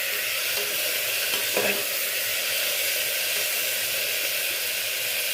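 Chopped tomatoes being stirred into lightly sautéed onions in a hot pan give a steady, close sizzle and hiss, with a brief scrape of stirring partway through.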